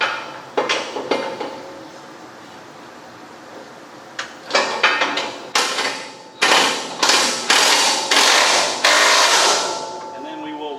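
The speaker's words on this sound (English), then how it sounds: "I'm going to reach down under with my impact and tighten up our front bolts" Impact wrench tightening front bolts during a belt replacement, a series of sharp rattling bursts that stop and start and run longer toward the end, with a quiet space between the early hits.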